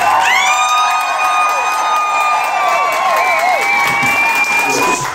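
An audience greets a singer at a gathering celebrating mothers with loud applause, cheers and high whoops, a sustained rush of clapping and voices with piercing shouts throughout.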